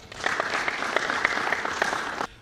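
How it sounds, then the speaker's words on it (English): A crowd at a UNDP public forum breaks into brief, dense applause, many hands clapping together before it cuts off abruptly. "A big round of applause for him."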